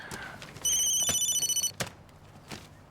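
A telephone rings in a hospital office during a medical aid mission, loud and close: a warbling electronic ring in rapid pulses lasting about a second, followed by a few faint knocks.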